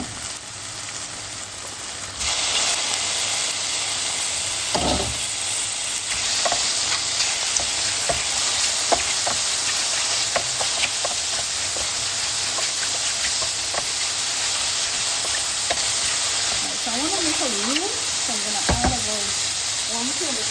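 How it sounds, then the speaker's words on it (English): Drained mushrooms dropped into a hot pan for a mushroom sauce with chicken meatballs, the sizzle swelling loudly as they land and followed by steady hissing with intermittent spatula scrapes and knocks, close by. "I'm going to add in my drained mushrooms."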